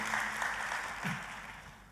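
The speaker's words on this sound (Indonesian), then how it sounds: "kita kasih tepuk tangannya yang paling meriah buat Tuhan kita." A church congregation applauds during a service, a steady spread of clapping hands heard at a moderate distance that gradually thins and fades out.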